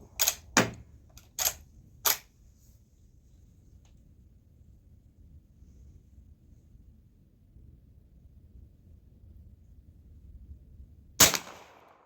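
Several sharp gunshots from a .45 Long Colt lever action rifle crack in quick succession at an outdoor silhouette range, followed by a long quiet stretch and one more loud shot near the end.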